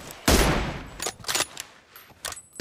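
A P90 submachine gun fires in PUBG Mobile, starting with one loud burst and then giving short, sharper volleys at a moderate distance.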